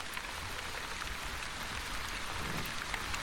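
Steady rain in The Wandering Village video game, an even hiss of falling drops spread across the whole clip with no gaps, moderately loud and alone with no voices.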